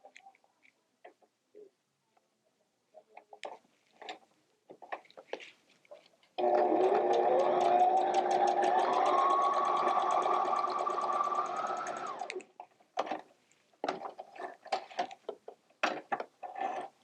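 Sewing machine stitching pieces of quilt fabric together in improv quilting. A steady motor whir lasts about six seconds. Scattered handling clicks and rustles of fabric come before and after it.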